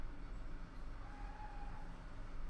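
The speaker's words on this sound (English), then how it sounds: "Ah, stupid trains." A train rumbles past at a distance as a low, continuous drone with a faint high whine rising through the middle, steady and muffled rather than loud, with no talking.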